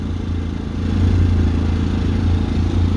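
A generator standing on a large piece of wood runs with a steady, loud low rumble and even mechanical throb that swells slightly partway through, alone without talk.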